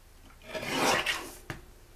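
A single close scraping cut along the edge of a handmade paper card, a rising and fading rasp followed by a short sharp snip, with no voices.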